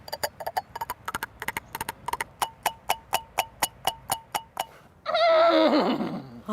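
A Bashkir kubyz, the Turkic jaw harp, imitates a horse's hooves with a rapid, even run of sharp twanging plucks, close and alone, ending in a loud buzzing whinny-like swell.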